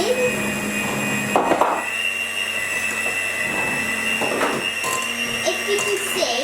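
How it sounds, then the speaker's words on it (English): An electric whisk beats brownie mixture in a home kitchen, giving a steady, fairly loud mechanical whir that runs continuously. Brief bumps and scrapes occur along the way, and a voice speaks over it at times. "she's going to whisk that up for about 8 minutes"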